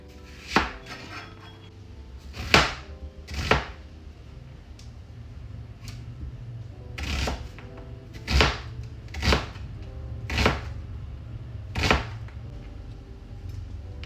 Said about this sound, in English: So we'll wash these and cut them up